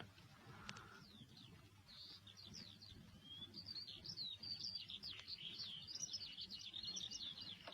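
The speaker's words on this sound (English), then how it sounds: "a lark still sings" A lark sings in the open over a wheat-stubble field in rural Ireland, a long run of bright, rapid twittering and trilling phrases that grows fuller after the first few seconds over a low rumbling background.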